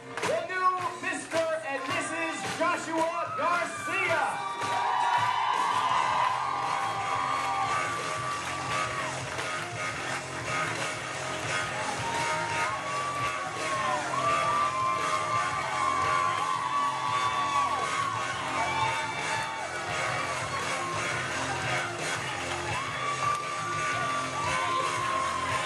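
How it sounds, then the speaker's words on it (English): Guests at a wedding reception at West Valley Inn in West Warwick, Rhode Island, whoop, shout and cheer for the newlyweds, a sustained crowd roar over loud music. "Applause for your newlyweds."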